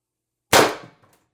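A single sharp report from an Umarex TR50 CO2 air rifle firing a heavy 8.4-gram steel ball bearing through a tuning barrel with extension, loud and close, with a brief decaying tail and no talk.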